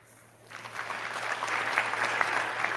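A small audience begins thin, scattered clapping after a brief hush, and it stays sparse and moderate in loudness without ever building into full applause.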